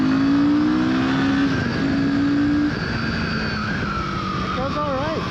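Royal Enfield Himalayan 450 motorcycle engine accelerating in second gear at around 5,000 RPM, a loud steady drone rising in pitch, heard close with wind roar and someone talking over it.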